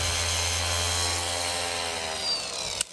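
A Milwaukee battery-powered brushless car polisher runs up close with a steady high whir and a low hum, then stops abruptly with a brief click.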